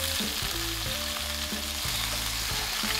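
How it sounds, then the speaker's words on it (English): Chicken searing in oil in a pot, giving a steady, close sizzle with soft periodic crackles and pops throughout, no voices. "We're literally just gonna sear both sides here for just a little bit,"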